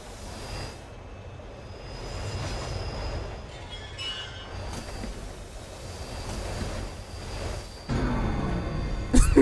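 A train rolls steadily in the horror video game Train 113, a continuous low rumble of wheels on track with a faint metallic squeal, building slightly louder toward the end, no voices.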